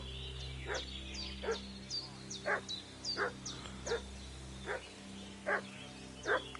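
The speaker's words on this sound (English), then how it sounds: "What's that dog making such a fuss about?" A dog in the video game Kingdom Come: Deliverance 2 barks repeatedly at a middle distance, about ten evenly spaced barks over a steady low hum of game ambience.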